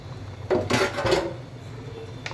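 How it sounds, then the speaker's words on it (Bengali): A lid lifted off a pot of slow-cooked beef leg soup, giving a brief metallic clatter and scrape of metal on metal, close, over a steady background hiss. "ঢাকনাটা উঠিয়ে নিচ্ছি দেখুন"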